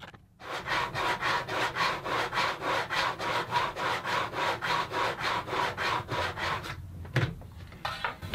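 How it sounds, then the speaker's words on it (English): Steady back-and-forth strokes of a hand saw cutting fret slots into a wooden bass guitar neck, about two strokes a second, close and loud, then a brief pause and a tap near the end. "spend a few minutes sawing some slots"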